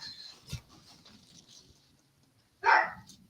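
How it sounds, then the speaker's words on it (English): A dog indoors gives a single sharp bark near the end after a faint yip earlier, the room otherwise quiet. "he's going to continue to bark"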